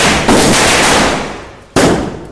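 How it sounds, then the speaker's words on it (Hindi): Chocolate bomb firecrackers exploding at Diwali: two sharp, loud cracks about a second and a half apart, each ringing out and slowly fading into the open air. "साउंड गजब है, लग रहा है चॉकलेट बम फोड़ रहा है"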